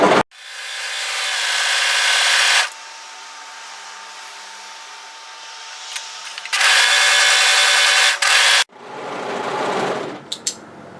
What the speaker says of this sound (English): just going to overlock the hem area.